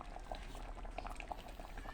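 A pot of sweet potato soup boils steadily, with a continuous bubbling and gurgling of liquid heard up close and fairly quiet throughout, with no talking.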